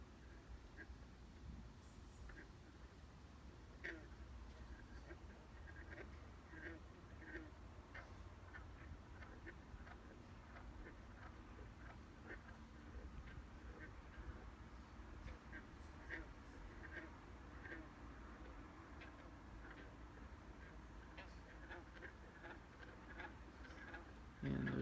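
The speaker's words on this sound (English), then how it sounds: "Yeah, those can't be ducks, those are frogs." Frogs call at night in Ontario, Canada, in a faint, distant chorus of short clicking croaks that repeat irregularly over a soft, continuous background.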